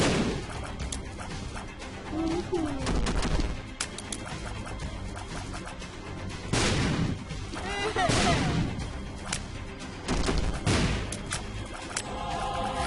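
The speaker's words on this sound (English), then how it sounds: "You can hear Issac firing at me, and if you listen, you can still hear my Ipecac explosions" Rapid shots fire in The Binding of Isaac: Rebirth, mixed with bursts of Ipecac explosions, under busy game sounds with dense, repeated booms and crackles.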